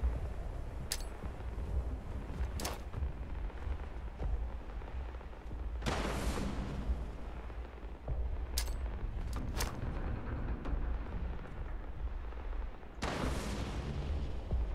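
Grenade explosions in the Fallout 76 video game: several sharp, loud blasts burst out at intervals over a steady low rumble, with short bangs between them and a final heavy explosion near the end.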